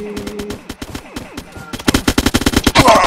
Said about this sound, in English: Let's try the machine gun.